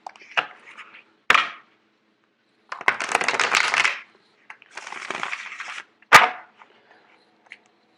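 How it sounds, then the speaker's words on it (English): Tarot cards being riffled and shuffled in several bursts, crisp rustling and slapping close by, with short pauses between, no talking. "I'm actually going to do one more shuffle."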